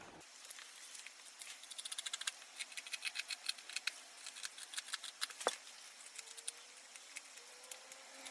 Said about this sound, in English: Give them a tiny snip with the end of your scissors